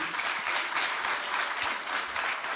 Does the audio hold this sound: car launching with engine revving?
no